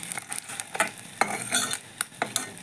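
Fried hilsa fish heads are lifted out of hot oil, with bursts of sizzling and crackling, scraping and stirring clatter from a utensil in the pan, close and uneven.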